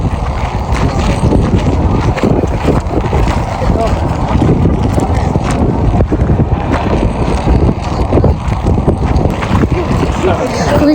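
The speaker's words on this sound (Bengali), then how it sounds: "আমার কাছে বরফের বাতাস" Icy cold wind blows hard across the open desert at the colorful stacked boulders of Seven Magic Mountains, a loud continuous roar buffeting the microphone throughout.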